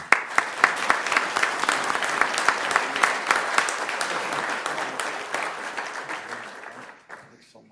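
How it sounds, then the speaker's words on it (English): A council meeting audience in Sioux Falls applauds during a National Kidney Month recognition, with close, distinct claps forming a sustained round that fades out abruptly at the end. "Let's give them a round of applause, please"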